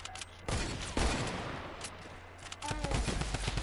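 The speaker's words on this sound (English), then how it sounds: "You're spamming a whole drum gun." Drum gun fired in rapid, repeated bursts in a video game, dense gunfire bursts that start and stop across the clip at moderate level, with a voice briefly speaking near the end.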